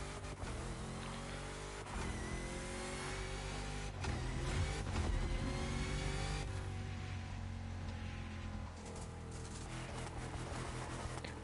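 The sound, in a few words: Dodge Charger Hellcat Gen 2 engine in video game The Crew Motorfest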